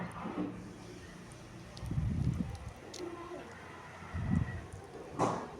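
A bird hidden among the leaves of a fruit-laden tree gives two low, soft cooing calls a couple of seconds apart, faint and somewhat distant against quiet outdoor background noise.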